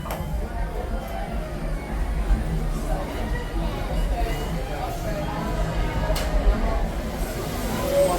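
The Walt Disney World Railroad steam train rolls along in a steady, continuous rumble with faint rattles and clanks, a crowd murmuring softly throughout the ride at Magic Kingdom.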